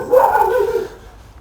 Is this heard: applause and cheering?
no